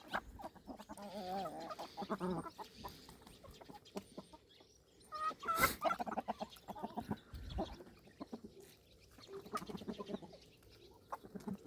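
Hens cluck and murmur close by in a coop, with scattered calls and a brief louder squawk partway through, no talk.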